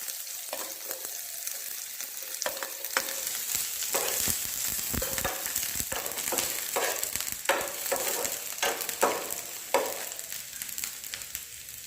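Sliced onions go into hot mustard oil in a pan and sizzle steadily, with scraping stir strokes and scattered crackles, close and fairly quiet, with no voices.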